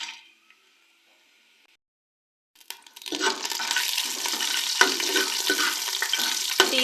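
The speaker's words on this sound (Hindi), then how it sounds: "30 सेकंड के लिए हम इन्हें हल्का सा ऑयल में रोस्ट कर लेंगे।" Black pepper, cloves and whole cumin seeds hit hot oil to roast for mutton yakhni; after a near-silent start, a loud, steady, close sizzle erupts and holds, with a few sharper spits.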